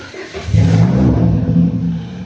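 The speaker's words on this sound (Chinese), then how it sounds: "所以说咱们先把车打着，看一下啊，来试一下踩住离合、" An old Shanghai-style rally car with a tuned 2.0-litre engine fires up, a close, loud starter catch rising into a rough, steady rumbling idle.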